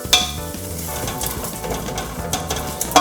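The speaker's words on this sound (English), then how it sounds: "just give it a little stir" Beef broth for nasi rawon is stirred in a pot, and a steady close sizzle and bubble runs underneath as a utensil scrapes and knocks against the pot in a few sharp taps, with no one speaking.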